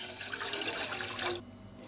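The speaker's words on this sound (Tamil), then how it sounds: "சக்கரை கரையிற அளவுக்கு தண்ணி ஊற்றிக்கலாம்" Water runs and splashes steadily into a pan to dissolve sugar for beetroot halwa, a bright continuous pour that stops abruptly near the end, with no talk.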